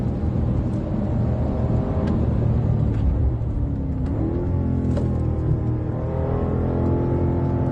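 A BMW M5 safety car engine pulled hard toward the red line, a loud sustained roar with rising and shifting engine tones heard from inside the car, no talking.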